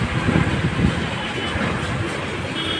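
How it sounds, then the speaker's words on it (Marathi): Vehicles roll over a badly potholed rural road between Tivari and Rajavali in Maharashtra, giving a continuous loud rumble and rattle that stays steady throughout with no talk over it. "हे दोन गाड्या येतात एक साईडला"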